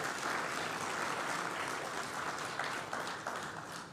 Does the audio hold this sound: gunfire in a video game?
no